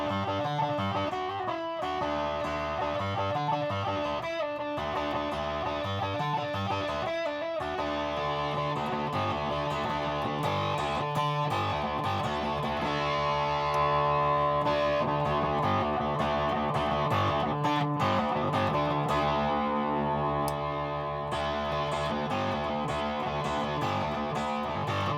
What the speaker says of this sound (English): seems to bring out some more of that broken sound of the ring modulation and octave setting